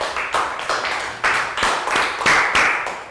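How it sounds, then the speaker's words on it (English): A small classroom group claps for a student, a short burst of several quick, uneven handclaps ringing close by with no talking over them. "Round of applause for Bangpon for doing a great job."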